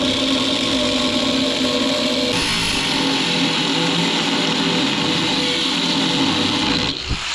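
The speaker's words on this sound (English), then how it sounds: "Wised up and went to the drill press." A drill press trims a spacer cut from 3/4-inch aluminum bar, giving a steady, loud machine whir with broadband cutting noise that holds throughout, in a shop during suspension work on a Jeep Renegade.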